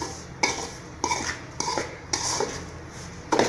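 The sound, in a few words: stirring and roasting semolina (rava) in a pan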